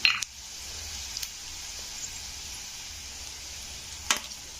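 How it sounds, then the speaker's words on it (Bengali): Whole coriander seeds and cumin sizzle steadily in hot oil for a South Indian style egg curry, a constant close hiss broken by a few sharp clicks and pops of spice or spoon. "প্রথমে দিয়ে দেবো 1 চামচ মতন ধনে, গোটা ধনে, 1/2 চামচ জিরে,"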